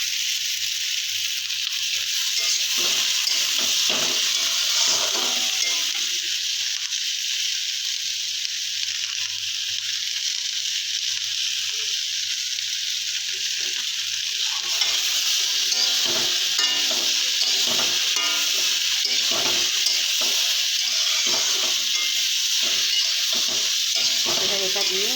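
Steady loud sizzling of food frying in a pan, with repeated scraping strokes of a spatula stirring throughout, close and continuous with no voices.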